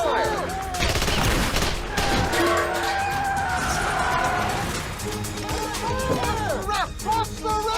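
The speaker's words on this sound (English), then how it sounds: "Open fire!" Gunfire on a closed road during a tense confrontation, a chaotic volley of overlapping shots and sharp cracks over several seconds, loud and close, mixed with shouting voices and commotion.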